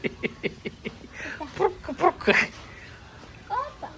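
A small dog yips and whimpers in short bursts, mixed with nearby voices talking over it.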